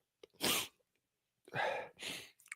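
A person sneezes alone and close by: one sharp sneeze, a short pause, then a second sneeze and a quick sniff.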